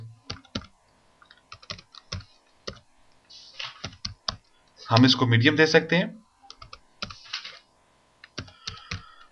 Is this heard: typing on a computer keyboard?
yes